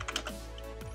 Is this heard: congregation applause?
no